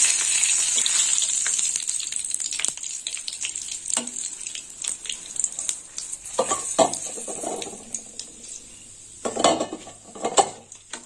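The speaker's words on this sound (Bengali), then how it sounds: "ফোড়নটা ভাজা দেব।" Dried red chillies, five-spice seeds and two bay leaves crackle and sizzle in hot oil in a pan, with a steady hiss and scattered clinks of a utensil stirring against the metal.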